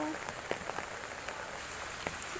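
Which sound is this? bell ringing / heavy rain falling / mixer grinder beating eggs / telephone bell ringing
heavy rain falling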